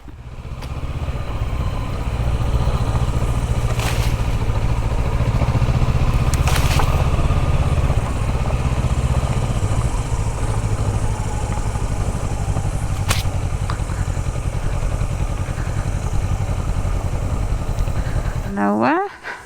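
Motorbikes riding along the Manawatu scenic route, a loud steady engine drone with rumble and wind buffeting throughout, close to the microphone.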